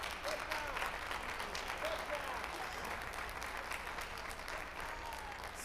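Sustained applause from an audience at a public business meeting, a dense steady patter of many hands clapping throughout, fairly loud and continuous with faint cheering mixed in.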